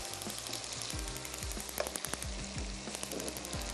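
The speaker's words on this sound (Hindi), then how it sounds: "इसको इतना पकाते हैं कि ये जो चीनी है ये बहुत अच्छे तरीके से घुल जाए" Sugar and water cook in a pan for mutton rara, giving a steady close sizzle and bubbling with a few scraping stirs throughout.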